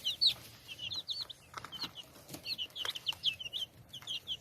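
Small birds cluck and chirp near and busily, squabbling over a bit of food one has in its beak while a full plate sits close by; short, excited calls overlap in quick bursts throughout.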